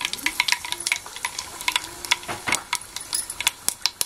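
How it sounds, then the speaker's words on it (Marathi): Spices being tempered in hot oil for chutney over a wood-fired stove, with irregular crackling pops and light clinks of a utensil against the pan, close and fairly quiet. "आता फोडणी देऊया."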